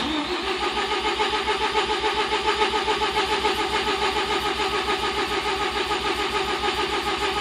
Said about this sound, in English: You can hear it wants to start.